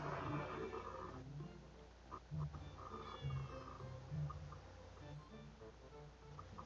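A cat in the Detective Di video game lets out a series of drawn-out, wavering meows and yowls. The cries are fairly quiet and set over a low background, with murmured voices underneath.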